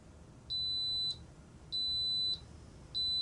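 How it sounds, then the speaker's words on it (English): Three evenly spaced, high-pitched electronic beeps from an Instant Pot pressure cooker signaling cooking is done, each about half a second long, clear against a quiet background. "that beeped several times to let you know the cooking was done"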